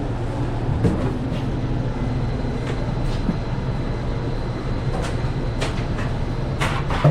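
A Hudson-Bergen Light Rail train sits at a station after pulling in, a steady low rumble and hum with occasional sharp clanks and squeaks over several seconds.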